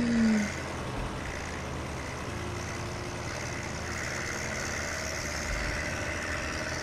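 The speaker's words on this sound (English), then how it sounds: "I hear the engine struggles a little bit there" A video game tractor engine drones on without pause, steady and laboring, a low mechanical rumble holding at an even level with no voices.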